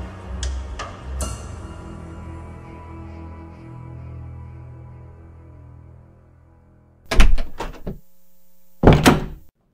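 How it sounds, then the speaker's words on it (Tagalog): Someone thumps on a door, giving a couple of hollow knocks and a thud, followed by a quieter stretch. Two sharp, loud bangs come near the end. "Nagulat siya na may kumalabog sa pintuan nila."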